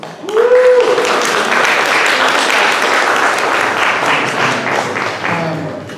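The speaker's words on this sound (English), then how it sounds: "I'm going to give one more round of applause, please, to Phyllis" Town hall audience claps and applauds together for several seconds, a dense, fairly close burst that starts after a brief voice and slowly thins toward the end, with faint talk underneath.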